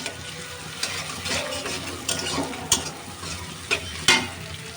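Chopped garlic frying in oil, a continuous crackling sizzle with sharp spatula scrapes and knocks against the pan at irregular moments, heard up close without speech.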